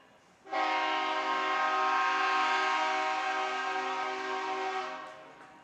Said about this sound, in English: Another train on its way through.